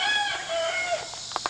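Free-ranging chickens and roosters on a farm: a rooster crows in long drawn-out calls, with brief clucks and scratchy sounds nearby, fairly loud and without talk.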